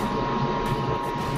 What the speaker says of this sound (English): It's my dryer.